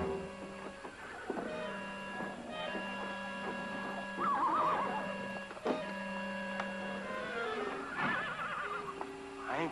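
A horse neighs and whinnies loudly in a Western film scene, its high wavering call rising twice over a steady tonal background, with faint hoof-like thumps.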